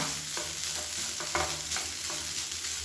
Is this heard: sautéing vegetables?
yes